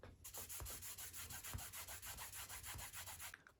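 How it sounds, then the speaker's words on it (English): Fine sandpaper wet-sands a plastic model car part for a pink Rolls Royce FAB 1 build, a close, soft rhythmic rubbing of steady back-and-forth strokes, about four per second, with no voices. "now I'm going to do some wet sanding just to try to get that really smooth"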